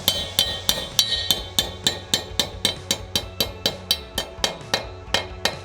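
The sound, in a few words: hammering wall anchor into brick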